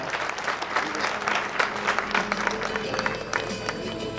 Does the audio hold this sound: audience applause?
yes